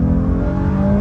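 A Honda Ridgeline Black Edition pickup truck engine revs hard and loud for a second, a deep throaty roar rising steadily with no talking over it.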